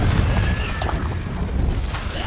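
A Confringo blasting spell explodes in Hogwarts Legacy, a dense, booming blast that roars loudly throughout with crackling debris.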